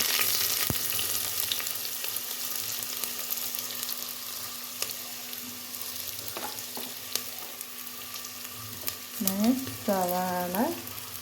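Sliced onions sautéing in hot oil with fenugreek for a chicken curry, a steady close sizzle with occasional spoon stirs, and a brief voice near the end.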